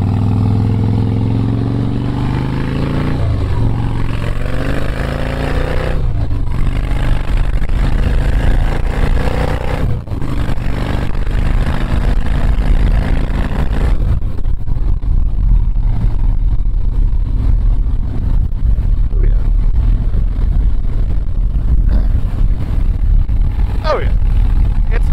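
Steady low engine rumble from a 2005 Harley-Davidson Softail Springer Classic motorcycle on a road ride in Raleigh, with constant wind noise and a few shifts in pitch as it speeds up and slows down.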